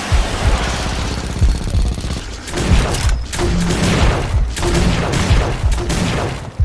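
Pistol gunfire in the video game ChiKing dead: rapid, loud shots fired in dense bursts throughout, with short pauses between volleys and no talking.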